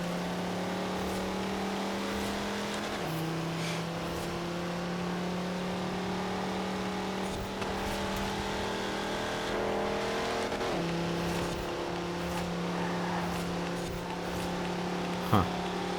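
Fast cars racing in Forza Horizon 4 during an autumn championship, a close, sustained engine drone that shifts pitch with gear changes, accelerating steadily, with a sharp knock near the end.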